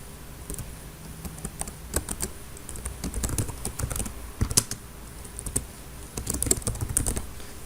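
Someone types React component code on a computer keyboard: rapid, irregular, close-up key clicks in bursts with brief pauses, and no talking.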